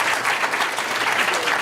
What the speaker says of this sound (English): Let's give a round of applause for Hack at